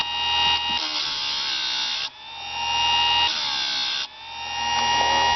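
A Harbor Freight electric chainsaw chain sharpener whines as its grinding wheel spins and bites into chain teeth, a loud steady drone with repeated dips as each tooth is ground.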